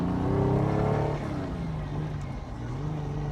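The engine of a 1972 Ferrari 246 GT Dino coupe, heard from the passenger seat, hums steadily and smoothly at moderate revs while the car cruises through suburban streets, with no talking over it.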